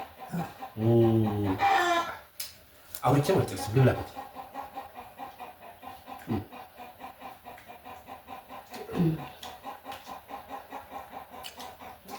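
Chickens cluck in bursts near the start and again around the middle, mixed with steady people talking at close range throughout.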